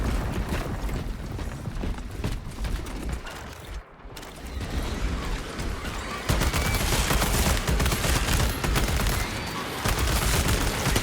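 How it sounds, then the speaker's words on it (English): Metallic clicks and ratcheting clacks of a weapon being reloaded in the Space Marine 2 video game, close and busy, layered over dense, continuous battle noise and gunfire. "Reloading weapon."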